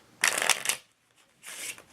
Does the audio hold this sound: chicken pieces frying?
no